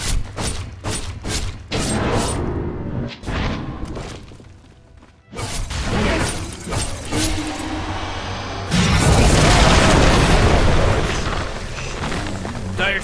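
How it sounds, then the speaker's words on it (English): Dota 2 combat around a tower under attack, with rapid booming impacts, crashes and explosive bursts, a short lull, then a dense sustained roar of battle, loud and continuous. "Dire's top tower is under attack."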